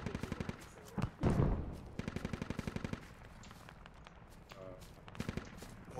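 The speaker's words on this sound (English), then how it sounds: "Pulling out the machine gun." Machine gun in a video game, firing rapid, evenly spaced bursts several times with short pauses between them, fairly close, alongside a heavy thud and a voice talking.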